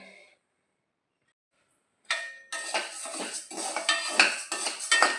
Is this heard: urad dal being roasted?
yes